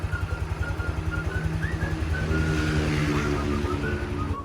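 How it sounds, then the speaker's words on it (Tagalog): An engine idles steadily with a low, even pulsing throb and a faint tonal whine above it, no voices. "tahimik na ang kanyang makina"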